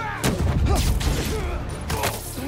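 Heavy gunfire crackles in Marvel's Spider-Man 2, with rapid overlapping shots and booming impacts that sound dense and close, mixed with game effects and a bit of voice.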